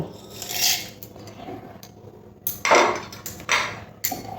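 Dry red chillies, black peppercorns and coriander seeds, dry-roasted in a pan, being ground with a few short bursts of gritty, rattling crushing and clinking, close and fairly loud, separated by quieter pauses.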